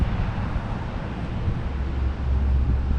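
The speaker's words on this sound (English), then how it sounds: "Probably can't hear me with the wind." Strong wind buffeting a microphone beside a lake during trout fishing, a continuous low rumbling roar that swells toward the end, loud and close, with no talking.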